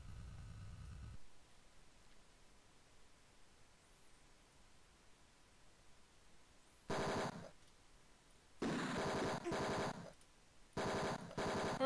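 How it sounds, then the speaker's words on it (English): Gun battle in the video game Mean Streets, with bursts of harsh, buzzing machine-gun fire starting midway, several rapid volleys separated by brief pauses over a faint hiss. "What you want to bet this is going to be a fairly big gun battle?"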